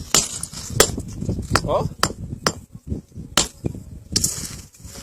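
Hammer chipping stone into paving cobblestones in rural Paraíba, Brazil: sharp, irregular metallic clinks repeat every half second or so, close and loud, with a voice speaking briefly between strikes.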